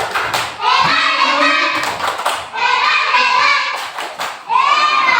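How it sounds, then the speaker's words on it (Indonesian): A class of young primary-school children chants and claps together in rhythm, a loud group cheer in bursts with clapping and tapping under their voices. "Tepuk hebat"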